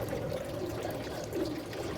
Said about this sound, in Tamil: சேர்த்து ஒரு டைம் நல்லா இந்த தண்ணியிலே களைஞ்சி எடுத்துக்கலாங்க.